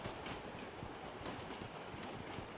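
Freight train rumbling steadily along the tracks in the mobile battle royale game PUBG Mobile, with a continuous clattering roll of wheels and carriage noise, even and close throughout, with no talking.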